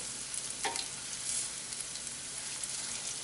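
Lauki koftas frying in oil over low heat, a continuous soft sizzle and hiss with a few brief crackles, close and steady with no voices.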